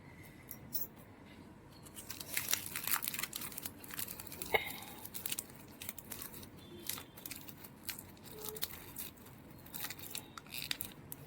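Plastic grafting film is cut and peeled off an adenium plant, giving quiet close snips, crinkles and small tearing sounds scattered across the stretch, faint and without talk.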